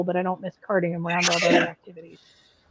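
A sharp sneeze bursts out in the middle of conversation, with people talking just before and after it.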